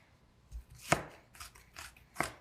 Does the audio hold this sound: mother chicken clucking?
no